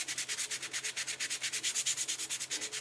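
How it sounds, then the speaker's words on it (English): A dull 220-grit sanding block rubbed lightly back and forth on a craft piece, producing a quiet, close, rhythmic scratching of about eight strokes per second with no talk. "I'm using a very dull 220 grit block, but you could also use 400 grit sandpaper."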